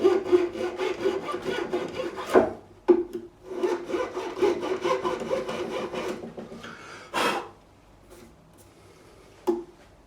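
A small saw cuts and clears fret slots in a sanded bouzouki fingerboard, giving close, rhythmic rasping strokes in bursts with brief pauses between passes.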